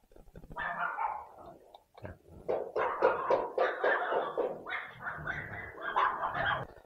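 A dog barks repeatedly at a house, sharp yapping barks in quick bursts with a few whimpers, heard from a short distance at moderate volume.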